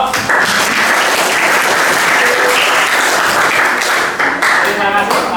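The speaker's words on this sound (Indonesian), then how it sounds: "Kita beri aplaus untuk semua kelompok" Classroom applause for all the groups at the end of a group discussion in an Indonesian history lesson: dense, steady clapping from many students fills the whole stretch, with some voices mixed in.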